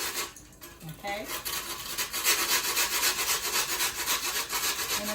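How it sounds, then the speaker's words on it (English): Two slices of whole wheat toast being shredded by hand, a continuous dry, crisp scratching and crumbling that stays close and fairly steady throughout, with faint breathy movement around it. "So you got to hear me shred toast"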